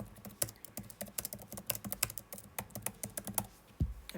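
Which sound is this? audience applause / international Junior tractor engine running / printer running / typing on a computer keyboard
typing on a computer keyboard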